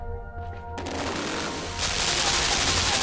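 Live ammunition fires in the game Limbo: after a quieter moment, a dense burst of rapid automatic gunfire starts and grows louder, continuing without pause to the end.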